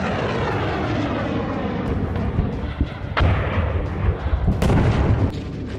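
A ballistic missile launched from Yemen by Houthi fighters toward central Israel gives a loud, sustained roaring rumble with several sharp cracking bursts, continuous throughout and without speech.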